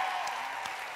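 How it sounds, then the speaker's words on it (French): Studio audience clapping on a Quebec TV game show, a brief, fairly quiet burst of steady applause heard at some distance. "on les applaudit"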